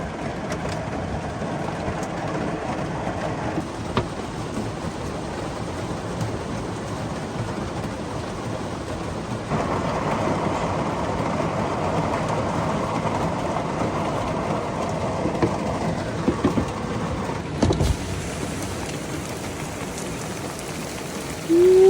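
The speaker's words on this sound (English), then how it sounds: "She's raining pretty good right now." Steady, dense hiss of heavy rain falling on surfaces at a car campsite, constant and enveloping throughout, growing a little heavier midway, with no voices.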